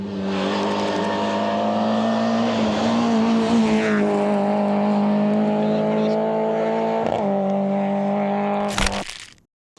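A rally car at the Vale de Cambra rally roars past loudly and close, engine droning steadily with gear shifts and revs before cutting off abruptly, followed by a sharp crack and silence.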